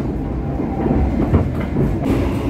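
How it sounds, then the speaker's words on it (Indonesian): Argo Cheribon passenger train rolling on rails, recorded from the vestibule of executive car 4: a steady, close low rumble with continuous rattling wheel-and-track noise throughout. "saya berada di Bordes di kelas eksekutif 4 kereta api Argo Cirebon"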